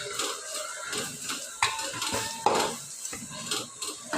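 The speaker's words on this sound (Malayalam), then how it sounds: "നന്നായിട്ട് ഇളക്കി യോജിപ്പിച്ച് കൊടുക്കുന്നുണ്ട്" Chicken biryani masala being stirred in a pot, with repeated scraping and clinking of a spoon against metal in an uneven rhythm, close up and fairly loud, with a light sizzle underneath.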